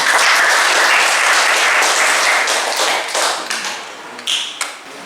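A classroom of students claps together, dense and loud at first, then thinning into a few scattered late claps near the end, with no talking over it.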